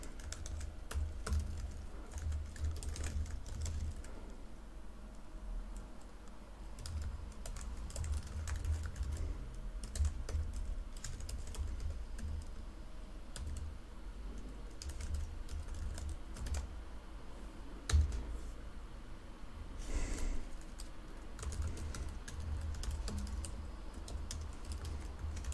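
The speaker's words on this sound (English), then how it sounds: "I have a 2016 MacBook Pro keyboard. It's bad and the keys repeat sometimes." Steady typing on a 2016 MacBook Pro keyboard, a worn unit whose keys sometimes repeat; soft, continuous clatter of key presses with occasional louder taps, close by, no voices.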